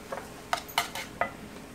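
A utensil stirs crushed tomatoes into a browned hot dog mixture in a pan for a Brazilian-style hot dog dish, giving several short, separate scraping clinks against the pan at moderate volume with no talking.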